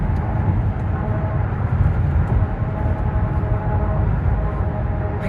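Tyres rolling over concrete pavement on the I-69 highway near Gas City, Indiana, give a steady, loud broadband road roar with low rumble, continuous throughout with no talking.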